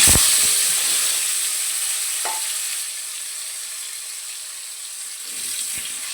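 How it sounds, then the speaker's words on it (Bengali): Potatoes fry in a kadai of hot oil left from frying fish, a steady bright sizzle that begins loud and slowly eases, broken by a few clinks of a utensil. "এবার কড়াইতে আলুগুলো ভেজে নেব।"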